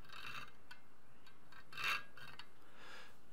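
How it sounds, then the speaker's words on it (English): A Vallorbe file rasps across steel in a few short strokes, with one louder, brighter stroke near the middle and softer scrapes around it, heard close up with no talk. "It's cutting in so much I can actually see it removing steel."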